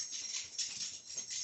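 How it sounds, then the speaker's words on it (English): A dog scratches indoors in a short, close, hissing rasp of claws that lasts only a moment. "that's my dog scratching"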